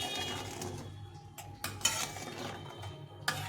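Hilsa fish curry with turmeric being stirred in a pan, a spoon scraping and clinking against the metal in irregular strokes over a soft background sizzle, close and fairly quiet.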